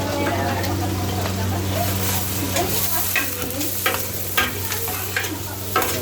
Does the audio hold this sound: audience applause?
no